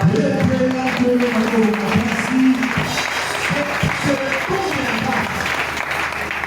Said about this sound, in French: Est-ce qu'on va applaudir pour le Seigneur?